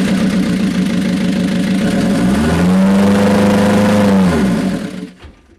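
A runaway diesel engine revs up high, its pitch climbing in a rising whine that holds loud and strained, then falls away and dies off abruptly near the end.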